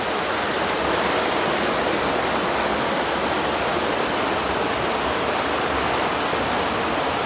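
A river in the Napsan area flows steadily, giving a continuous broadband rushing roar that is dense and even throughout, with no voices over it.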